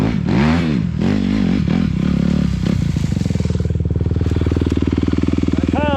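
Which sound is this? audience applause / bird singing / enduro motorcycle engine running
enduro motorcycle engine running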